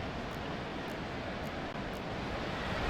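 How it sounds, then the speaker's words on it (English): Steady, dense roar of a large stadium crowd at a Broncos vs Chiefs NFL game, loud and continuous with no clear talk. "This crowd turning up the decibel level."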